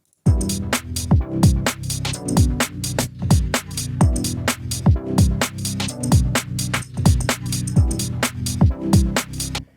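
A stuttering, rhythmic field-recording texture loop built in FL Studio, with sharp, evenly repeating gated bursts and short downward-sweeping tones pulsing steadily for the whole stretch, moderately loud and alone.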